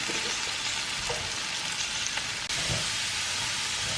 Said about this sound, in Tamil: பீட்ரூட் ஆட் பண்ணிவிட்டு அந்த ரா ஸ்மெல் போகிற வரைக்கும் இதை வந்து நல்லா சாட்டே பண்ணிடுவேன்